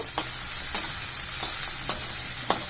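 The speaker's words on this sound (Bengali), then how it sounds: "এবার আমি মশলাটা দিয়ে দেব" Onions and spices frying in oil in a pan sizzle and crackle steadily, with a few sharp clinks of a utensil scraping and stirring.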